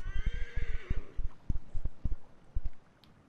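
A horse in the Assassin's Creed Origins video game gives a loud whinny with a descending pitch, followed by steady clip-clop hoofbeats coming close.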